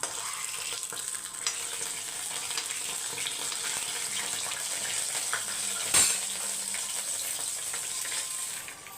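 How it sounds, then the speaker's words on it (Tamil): Vermicelli (semiya) fries with cashews in a pan, giving a quiet, steady sizzle with light stirring scrapes and a brief metallic clink midway. "இதிலே வந்து சேமியாவை வறுத்துக்கலாம்"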